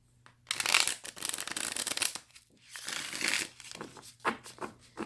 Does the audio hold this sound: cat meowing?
no